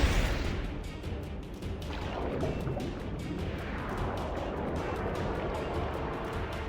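Grenades thrown at the Tros in Final Fantasy X HD burst in a dense, rumbling roar of explosions and debris that stays loud and continuous throughout, with no voices over it.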